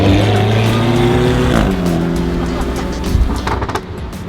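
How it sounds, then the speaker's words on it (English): A Lamborghini Aventador V12 engine and exhaust sounding loud and close with a steady high-pitched tone, shifting in pitch midway, with brief bursts later on. "the Aventadors have a certain pitch, depending on exhaust obviously, but I love that high tone"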